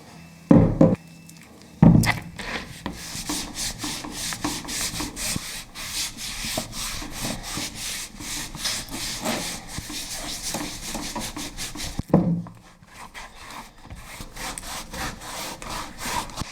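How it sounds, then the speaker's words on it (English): Homemade wax paste is rubbed onto flat leather pieces for waterproofing, a rapid, rhythmic back-and-forth scrubbing close by, with a few knocks and thumps at the start and around twelve seconds. "I want to wax the leather with this wax paste that I make myself to waterproof it"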